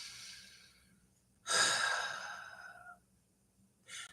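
A single deep breath: a soft inhale, then a long, breathy exhale up close in a quiet room, followed by a brief second breath.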